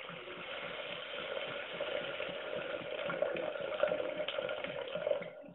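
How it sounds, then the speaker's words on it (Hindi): Water being poured into a pot of chana dal tadka as it cooks in oil, a soft continuous splashing and trickle heard alone at low volume for several seconds. "इसमें पानी ऐड कर देते हैं।"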